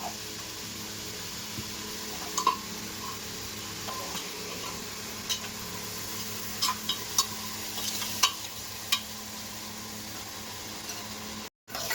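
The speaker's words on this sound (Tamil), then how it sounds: "ஒரு ஆளாக்கு வந்து இது சிறுபருப்பு நல்லா பொன்னிறமாக வறுத்துட்டேன்." Moong dal roasts in a pan to golden, a quiet, steady dry sizzle broken by occasional light clicks and scrapes of a stirring spoon, heard close with no talking.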